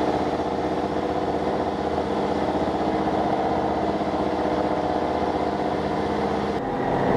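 A tour boat's engine runs steadily throughout a half-hour city trip on the water in Eskişehir, Turkey, a loud, continuous mechanical drone that ends with a brief drop near the finish.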